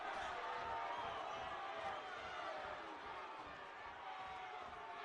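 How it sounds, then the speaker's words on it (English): Northland rugby supporters on their feet at a Skipper Cup match, a broad, steady crowd roar heard from a distance that holds throughout. "Northland crowd on their feet."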